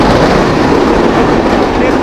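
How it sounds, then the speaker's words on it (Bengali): Train entering a loop line at a station on the Sagardari intercity express, loud continuous rumble and rattle of rail cars heard from close by, with no talk. "ট্রেন লুপ লাইনে ঢুকতেছে, মানে ক্রসিং আছে এখানে এবং এখানে থামবে।"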